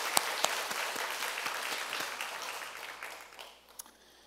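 A Korean church congregation at Yangpyeong-dong Church gives a round of applause in worship. Full clapping gradually tapers off, leaving a few scattered claps at the end.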